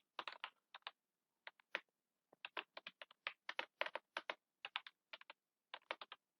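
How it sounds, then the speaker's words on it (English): Keys on a computer keyboard are typed into a command prompt in a quick irregular run of crisp, close clicks with short gaps, heard alone in a quiet room. "type Jupyter notebook in command prompt"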